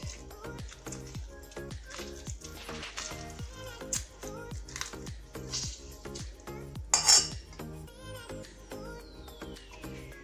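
A fork presses and squeezes a lemon for lemon meringue tart filling, a quick run of repeated metallic taps and squelches against a dish, fairly faint and without talk.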